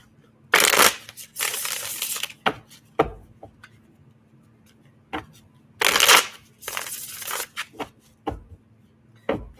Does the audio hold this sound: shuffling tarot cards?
yes